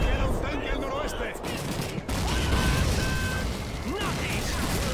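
Dense rapid gunfire and mechanical clatter fill the scene continuously, loud and chaotic, with faint voices mixed into the din of a Call of Duty 2 battle against tanks and German troops.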